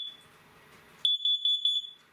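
After a faint steady high tone, a carbon monoxide alarm being push-tested sounds a quick series of four or five sharp, piercing beeps, close by.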